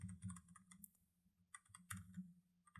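Quiet, close keyboard typing, with quick irregular clicks in short bursts and brief pauses. No voices.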